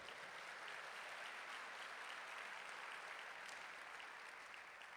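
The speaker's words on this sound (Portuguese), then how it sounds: "Aplauda o Senhor." Congregation applauding during a family church service, steady dense clapping filling the whole stretch at an even level, no voices standing out.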